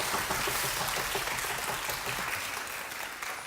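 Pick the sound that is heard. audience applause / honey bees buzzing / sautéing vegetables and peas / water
audience applause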